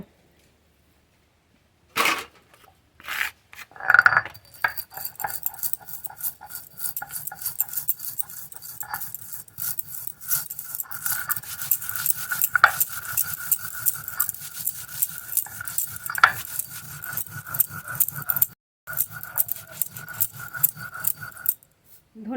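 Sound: grinding coriander seeds on a grinding stone

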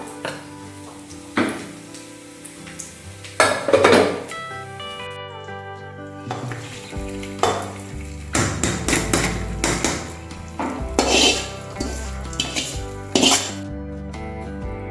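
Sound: stirring fried cashews into ven pongal in a pan

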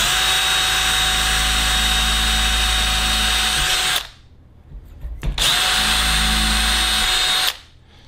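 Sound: power drill drilling holes

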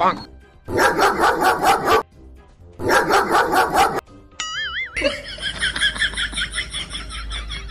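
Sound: dog barking

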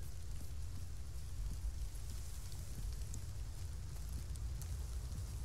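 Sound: rain in a video game

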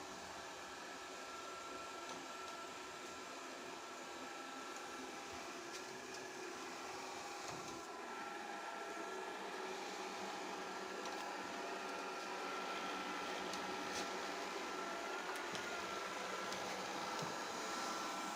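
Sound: robot vacuum cleaner running

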